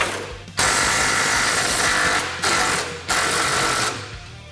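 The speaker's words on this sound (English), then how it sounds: "we're going to go ahead and remove all 4 of the radius arm bolts" Ratchet wrench loosening the rear radius arm bolts on a Polaris RZR Pro XP, heard as two long bursts of rapid, loud mechanical clicking close up, separated by a brief pause.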